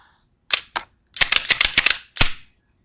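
Someone handles the slide of a Walther PPS pistol loaded with dummy rounds during a safety check. A few sharp mechanical clicks are followed by a quick rattling burst of clacks and one final snap, all close and crisp in an otherwise quiet room.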